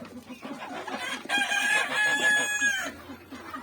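Small bantam chickens, mini Wyandottes, cluck in quick, close bursts, with one bird letting out a longer drawn-out call partway through; no talking.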